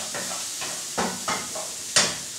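Spoon stirring ravioli filling with pistachios and cashew nuts in a hot pan, a series of scraping strokes over a soft sizzle, close and without talk.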